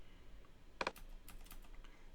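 A computer keyboard's arrow keys are pressed in a quick double tap, crisp and close, followed by a few faint clicks in an otherwise quiet room with no talk.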